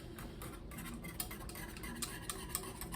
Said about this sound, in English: So we're going to mix in this cocoa powder.